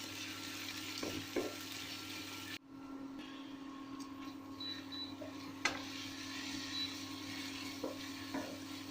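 Chopped onion and green chillies frying in a pan, a soft, steady hiss with a few faint stirring clicks, low and close, with a brief cut partway through.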